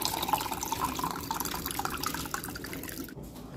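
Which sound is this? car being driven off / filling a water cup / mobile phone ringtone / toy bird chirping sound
filling a water cup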